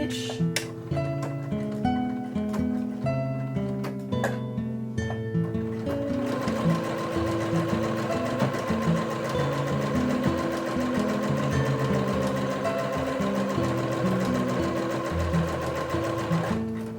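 A sewing machine runs steadily while back stitching a seam on a fabric bralette, its close, continuous whir holding without a break after a few brief starts and stops at the beginning.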